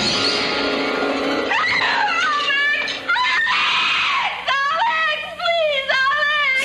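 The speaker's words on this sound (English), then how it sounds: "She screams." A woman shrieks in a 1970s TV monster movie, her loud, wavering screams rising and breaking repeatedly over a harsh, noisy soundtrack, with short gaps between bursts.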